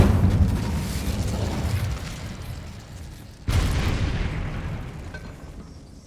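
In Hogwarts Legacy, an Incendio fire spell unleashes two heavy roaring blasts, the first a long fading rumble and the second a sharp burst midway that rolls off again, loud and without voices.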